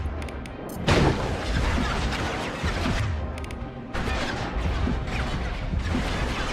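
Video game gunfire erupts in dense, loud bursts of shots and crashing impacts, continuing almost without pause across the clip.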